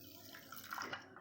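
Lukewarm water poured over about 8 grams of yeast and a pinch of sugar while starting bread dough: a brief, close splashing pour that swells and fades within about a second.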